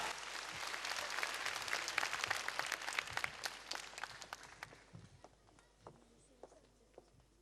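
Audience applause fills a charity memorial concert hall in Varna, dense and even at first. It thins into scattered individual claps and fades toward the end.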